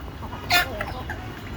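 A single short cluck comes from desi chickens kept on a rooftop, a brief, fairly clear call over a low background hum.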